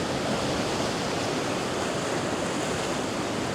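Ocean waves wash in at a beach at sunrise, a dense, steady roar of surf and white water filling the air without a break.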